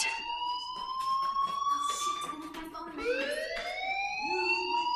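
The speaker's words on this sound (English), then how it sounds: "do you hear that fire alarm? That means you should be outside" A fire alarm in the Life Is Strange video game wails in rising, sliding tones that repeat and overlap, fairly loud, with a voice talking underneath.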